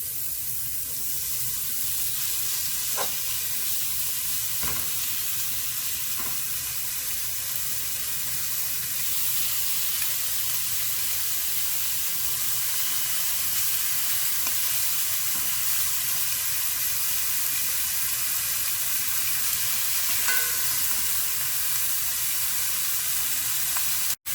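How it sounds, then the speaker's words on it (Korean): Pork belly sizzles in a preheated pan, a steady hissing fry that holds evenly throughout with a few faint pops and ticks, no voices. "예열 팬에 삼겹살 올려줍니다."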